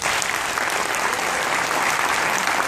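A large crowd applauds loudly and steadily at the closing ceremony of a national mediation congress, a dense wash of clapping that carries on without pause.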